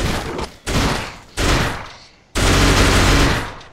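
Heavy bursts of rapid gunfire from the game Gunnheim come in four sustained volleys with short gaps, loud and close, with no voices.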